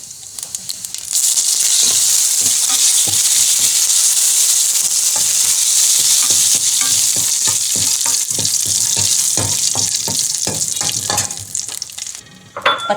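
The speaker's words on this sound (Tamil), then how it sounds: "ஃபஸ்ட்டு சேர்த்து நல்லா வதக்கிக்கணும்." Green chilies and ginger sizzle steadily in a hot pan while being sautéed for karpooravalli pachadi, with frequent scraping stir strokes throughout and the frying settling toward the end.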